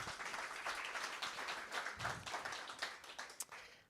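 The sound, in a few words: audience round of applause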